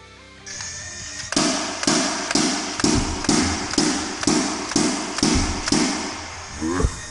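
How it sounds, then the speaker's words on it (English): A motorized Nerf Alpha Strike Flyte CS-10 blaster fires darts at a target from six feet back, producing a loud burst of about nine evenly spaced sharp thumps, each followed by a short motor whirr, close and alone. "now we will fire from 6 feet back and see if we can put a dent to our target using our first motorized Nerf gun"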